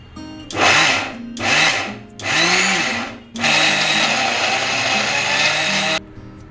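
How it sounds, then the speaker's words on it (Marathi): A mixer grinder pulses sesame ladoo ingredients with a pinch of salt: three short whirring bursts with brief gaps, then one long steady grind of about two and a half seconds before cutting off, loud and close. "आता आपण हे मिक्सीचं भांडं म्हणजे मिक्सर पल्स मोडवर ठेवून ते ग्राइंड करून घेऊया"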